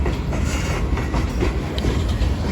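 Freight train locomotives moving near a rail yard in Decatur, Alabama, with a steady, close rumble of rolling rail cars and faint clicking wheels throughout.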